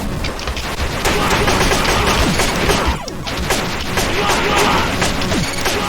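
Chaotic video game combat as an automatic taser weapon is tossed and bounces between opponents, a dense continuous barrage of crackling zaps, impacts and gunfire-like bursts lasting throughout at high loudness.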